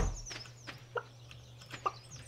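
Video game chickens in Stardew Valley cluck softly in short scattered bursts over a low steady hum, with a couple of brighter clucks standing out.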